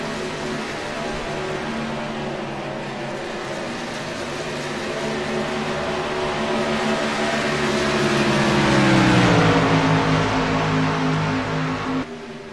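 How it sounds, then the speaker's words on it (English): Racing truck engines in NASCAR Racing 2003 drone steadily with layered harmonic whine, the pitch dipping and rising around 8–10 seconds as the engine downshifts through a turn, loud and continuous throughout. "I hear Matthew downshifting in the turns."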